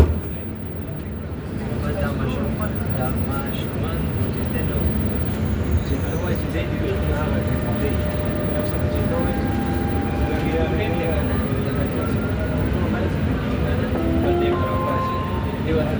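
Dubai Metro train running between stations, a steady loud rumble of the carriage in motion with rising whine tones, heard from inside the train throughout.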